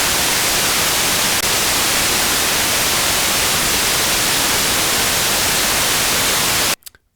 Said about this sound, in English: But the white noise sounds like this.